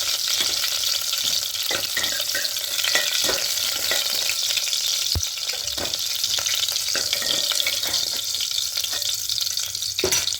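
Food frying in oil in a pan for veg paneer pulao makes a steady, close sizzle with scattered sharp crackles and pops throughout, with no talking.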